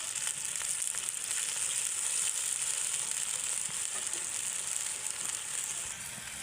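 A blended paste of dried chilli, ginger-garlic, cumin and garam masala fries in hot oil for a spicy beef tripe bhuna, giving a steady, even sizzle close by with only faint stirring underneath.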